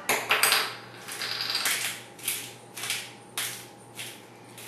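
Pepper grinder twisted over a lamb sirloin burger, giving a series of close, dry crunching bursts in uneven strokes with short pauses between them.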